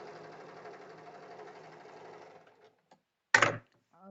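A sewing machine stitches along a marked line on a belt blouse, a steady close mechanical whirr for about two and a half seconds before it stops, followed by someone briefly speaking.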